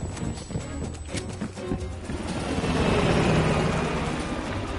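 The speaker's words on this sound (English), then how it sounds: "Fuck me, the chopper got away." A helicopter in the Black Ops Cold War game lifts off a south rooftop and escapes: a steady, loud engine and rotor roar that swells and thickens over several seconds, with no talk over it.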